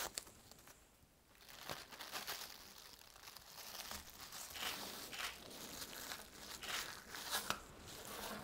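Masking tape for building a kite crinkles and crackles close by in a steady, fairly quiet stream of small rustles and tearing sounds, with no voices.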